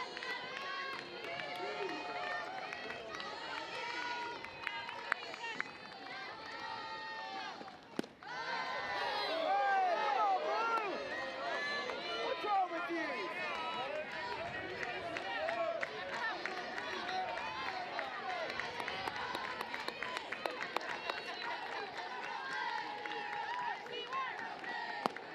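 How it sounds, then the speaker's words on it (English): Softball crowd on their feet at Davis Diamond, Mississippi State versus Texas A&M, cheering and clapping in a sustained, distant wash that swells partway through, with commentators talking over it. "The crowd on their feet here at Davis Diamond."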